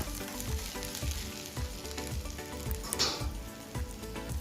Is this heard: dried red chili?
yes